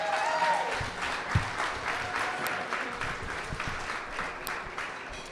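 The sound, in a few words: audience applause for Polk County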